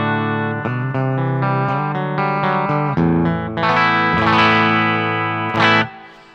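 Electric guitar played through a Quilter amp set to a Fender voicing into a Jensen speaker, with chords and single notes ringing out loud and clean-ish under light effects, then fading at the end.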